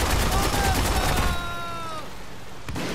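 Rapid gunfire from the video game Haze rattles in a dense burst, loud and continuous, then thins out into a quieter tail.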